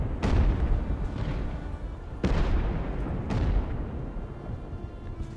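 Fort cannons boom in the Ultimate Admiral: Age of Sail naval video game, three heavy, close shots spaced irregularly, each with a rumbling tail that blends into a continuous low background.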